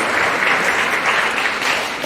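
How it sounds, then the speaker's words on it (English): An audience at a pageant claps in a steady, dense round of applause, loud and continuous, with no voices over it. "Let's give her a round of applause."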